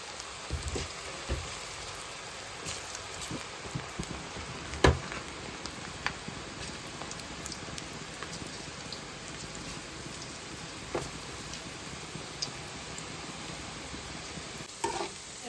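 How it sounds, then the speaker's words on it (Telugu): Onion pakodi batter deep-fries in hot oil over a medium flame, a steady bubbling sizzle with occasional sharper crackles and pops, close and alone. "స్టవ్ మీడియం ఫ్లేమ్లో పెట్టుకుని వేపుకోవాలి."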